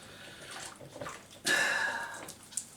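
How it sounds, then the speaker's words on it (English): Hands swish and slosh in a bowl of washing-up water, starting with soft dabbling, then a louder splash and a run of sloshing, and finishing with a small drip or plop. "I always prepare a bowl of washing up water. So we can put these in there, you see. And clean it all."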